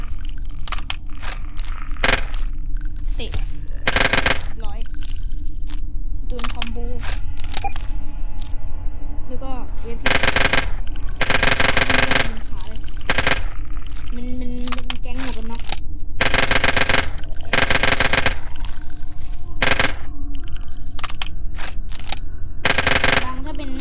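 Bursts of automatic gunfire and single shots from a zombie shooting video game, loud and repeated in rapid clusters throughout, with someone talking over the action.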